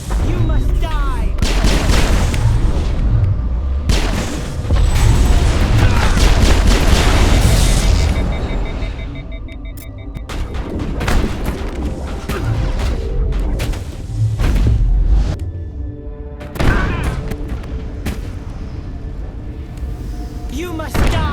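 Loud, dense gunfire and booming blasts fill a firefight in the 2007 video game Mass Effect 1, with sharp repeated shots and heavy thumps throughout and voices speaking over the battle.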